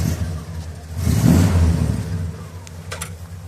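A 1966 Buick Skylark convertible with a 340 nailhead V8 pulling away, its low engine rumble swelling into a throaty rev near the middle, then settling back to a steady drone close by.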